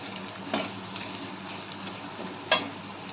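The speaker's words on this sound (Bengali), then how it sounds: "কাজু কিশমিশটা আমরা একটু হালকা ভেজে নেব।" Cashews and raisins lightly frying in a pan for fish pulao: a soft, low sizzle runs throughout, with a couple of sharper clinks from stirring, one early and a louder one near the end.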